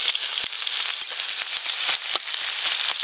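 Dry red chillies and chopped onion fry in hot mustard oil as a tempering for drumstick leaves, giving a constant bright sizzling hiss peppered with sharp crackles and pops, close and steady, with no talking.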